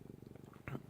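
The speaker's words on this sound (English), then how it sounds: "So hopefully the purring's not too crazy loud." A house cat purrs softly in a brief, steady rhythmic rumble, close and quiet, with a faint brief sound near the end.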